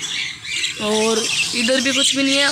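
Shrill, harmonic squawks from a parrot at a bird market ring out close by in quick succession, partly overlapping someone talking.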